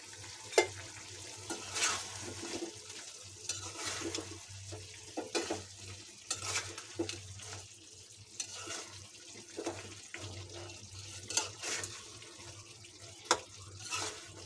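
Potatoes and chicken fry in a pan while being stirred, a low continuous sizzle broken by irregular scraping and clinking of the spoon over about fifteen seconds, quiet and close with no talk.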